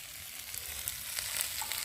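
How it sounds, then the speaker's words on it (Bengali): Steady oily sizzling of spice paste frying in a pan, a dense crackling hiss with soft stirring scrapes, close and even throughout. "মশলা খুব সুন্দরভাবে ভাজা হয়েছে"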